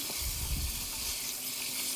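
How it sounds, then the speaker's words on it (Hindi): Water poured into a hot pot of chicken and potato curry produces a loud, continuous rushing hiss and gurgle, close up and unbroken, with no voices. "अभी मैं इसमें पानी डालूँगी।"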